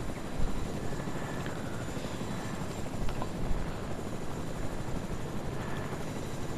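A helicopter in Fortnite Battle Royale drones with a steady, rumbling rotor and engine hum, continuous and moderately loud over the whole stretch.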